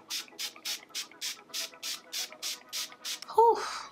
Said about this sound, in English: Then I'm going to finish off with the Urban Decay De-Slick setting spray.